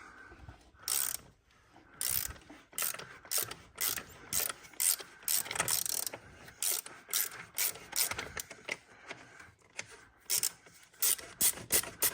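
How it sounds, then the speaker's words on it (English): Ratchet wrench with a 24mm socket on a 1/2-inch drive loosening an engine oil filter housing, giving repeated bursts of close, loud clicking pawl ratchets with brief pauses between strokes, no talking. "with the right ratchet, we should just be able to unscrew this, change out the filter"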